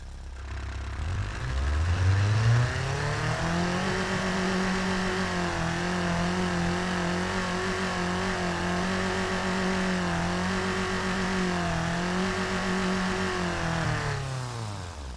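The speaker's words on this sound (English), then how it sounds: "Revving, the red line, everything sounds like a Honda Civic engine." A virtual 1949 roadster's engine in the Automation game revs up and holds high near the redline with a buzzy, Honda Civic-like tone, steady and loud for over ten seconds before dropping off at the end.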